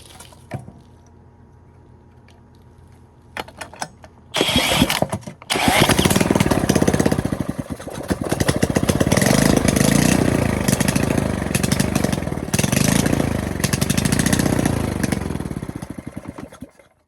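A rebuilt small go-kart engine takes a few sharp pull-start attempts, then catches and runs loud and close, its uneven idle rising and falling in rough, throbbing waves for over ten seconds.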